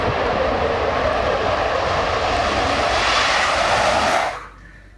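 A loud, steady roar like a Boeing 737 airliner engine holds for about four seconds, then cuts off abruptly into near silence.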